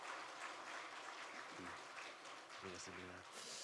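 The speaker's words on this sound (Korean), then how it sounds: "우리 좋은 찬양 내주신 하나님께 다시 한번 영광의 박수 한번 하겠습니다." Sustained church congregation applause after worship singing at a Sunday service fills the room steadily, moderately loud, with a few voices speaking and calling out over it.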